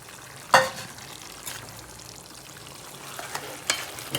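Mutton liver cooking in oil in a pan, giving a steady low sizzle with a sharp utensil clank near the start and a few lighter knocks later, and no voices.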